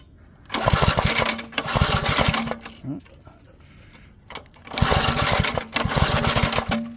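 The small engine of a TURFCO sodMaster sod cutter fires up and runs loudly for about two seconds, cuts out, then catches and runs again briefly, with some clunks in the quiet gap between.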